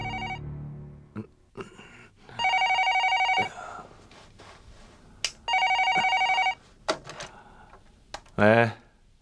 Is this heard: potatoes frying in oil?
no